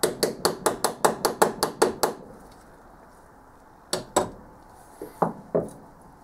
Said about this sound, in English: you hit it with the hammer